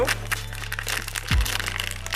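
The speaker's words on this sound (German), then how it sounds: "Jetzt holen wir wieder den Keks aus der Tüte" A biscuit is pulled from a crinkly plastic bag, giving soft rustling and crackling, with a brief louder crunch partway through and no talking.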